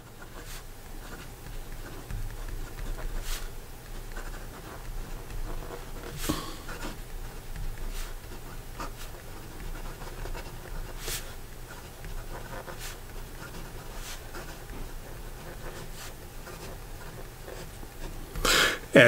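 A Montegrappa Game of Thrones limited edition fountain pen nib writing on paper, a faint, soft scratching that runs steadily for a long stretch, broken by occasional light taps and paper rustles, close and quiet.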